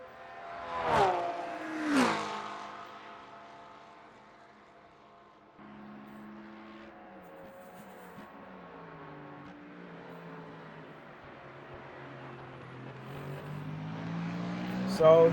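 Sim-racing McLaren and Porsche race cars at Le Mans, engines droning and shifting pitch as they run nose to tail, with a commentator talking over the steady mechanical hum.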